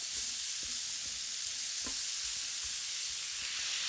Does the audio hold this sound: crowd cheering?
no